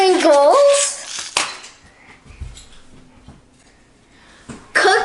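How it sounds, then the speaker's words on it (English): Clattering knocks and scrapes as a cutting board, cookie cutters and rolling pins are shifted aside in a kitchen while making sugar cookies, with a voice heard briefly at the start and at the end. "I'm going to just move the cutting board, cookie cutters, and rolling pins out of the way."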